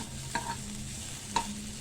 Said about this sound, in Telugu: కొంచెం లైట్గా కొద్దిగా ఆయిల్ వేసి ఈ ఆనియన్ కూడా వేసుకుందామండి.